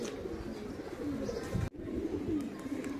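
Homing pigeons arriving back at their loft coo and clatter their wings in short bursts, with a brief sharp clap midway and light background noise throughout.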